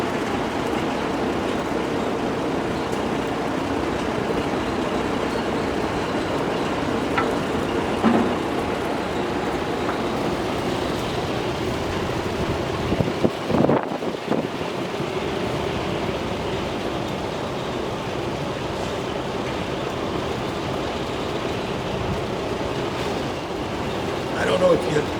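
A 1957 Ford 300 with a 390 FE V8 and triple two-barrel carbs runs steadily during engine break-in, a continuous broad mechanical drone holding level throughout, with voices talking faintly over it.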